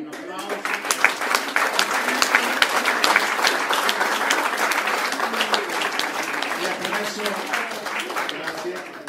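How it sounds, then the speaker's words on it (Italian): Audience at a memorial evening gives sustained applause, a thick, even wash of many clapping hands lasting several seconds with voices faintly underneath. "Un applauso."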